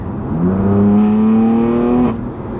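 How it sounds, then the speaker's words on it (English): A BMW M3 F81 Touring wagon with an aftermarket exhaust opened up gives a single loud, close rev that climbs steadily for about a second and a half, then cuts off sharply. "open up the exhaust and"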